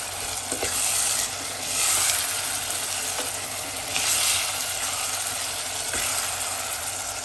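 Tinned mackerel in tomato sauce with vegetables stirred in a pot on a just-switched-off cooker: a steady, loud sizzling hiss with soft scraping swells of the spoon, occasional faint clicks, no voices.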